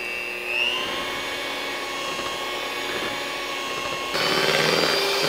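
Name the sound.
mixer blending cream cheese with erythritol for cheesecake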